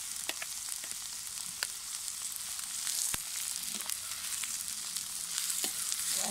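Lamb liver fries with peppers on a hot saj, giving a close, dense sizzle with scattered crackling pops and light stirring scrapes, with no talking.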